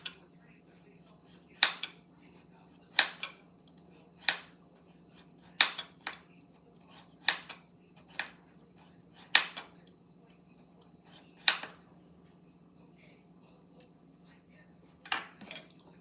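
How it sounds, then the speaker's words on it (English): A knife slices a green mango into very thin slices for a Khmer green mango salad, giving sharp, irregular clicks and taps against a hard surface, close and fairly quiet, with a faint steady hum underneath. "We'll do a very thin slices."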